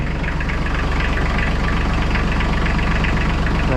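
An Iseki TLE3400 compact tractor's diesel engine idles steadily up close, a loud, even low chugging with a regular knocking pulse that holds throughout, with no voices.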